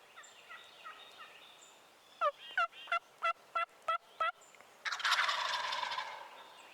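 Wild turkey gobblers in hardwoods during a hunt let out a burst of about seven sharp, rapid gobbles, fairly close, followed by a rougher rattling call, with faint bird chirps in the background.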